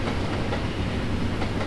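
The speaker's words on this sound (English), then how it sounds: "Let's put a freight train going on this line here." Freight train in the Trainz railway simulator game, rolling along steadily with a loud, continuous rumble and soft rhythmic clickety-clack of wagons over the rails, close and unbroken, with no talk.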